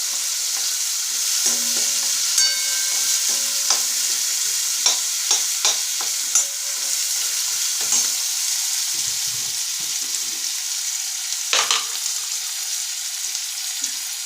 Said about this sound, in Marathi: कांदा थोडंसं फ्राय करायचं आपल्याला मस्त लाल होईपर्यंत